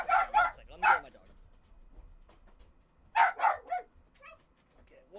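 A pet dog barks in short sharp clusters, three quick barks then a pause before two more and a few softer yips, close to the microphone in a quiet room.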